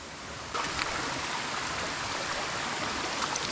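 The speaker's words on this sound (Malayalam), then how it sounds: "ഒരു ഉറവ ഒഴുകുന്നുണ്ട്" A spring-fed stream runs through a cave, a steady broadband rush of flowing water that rises a little after the first half second and then holds constant, with no voices.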